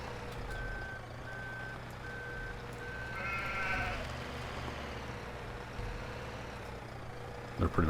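Sheep bleating in the Farming Simulator 17 game, several short bleats near the middle over a steady vehicle engine drone and a repeating reversing beep, with a clatter at the very end.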